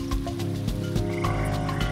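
Frogs in the Panama rainforest croak in a dense, steady chorus with repeated pulsing calls layered over continuous insect-like buzzing, close and fairly loud throughout.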